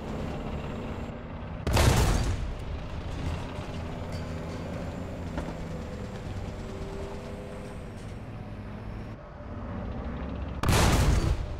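Two heavy tank cannon blasts in War Thunder, one early and one near the end, punching loudly over a steady low engine rumble and clatter.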